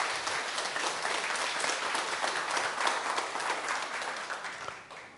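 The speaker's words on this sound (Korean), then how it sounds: "교수님을 박수로 모시고 두 번째" An audience applauds steadily at an academic lecture on Korean Buddhist and medieval history, welcoming a professor to the podium. The dense clapping holds at an even level for about five seconds, then tapers off at the end.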